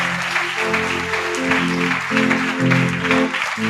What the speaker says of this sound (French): Est-ce qu'on peut donner une offrande d'acclamation pour la parole de Dieu?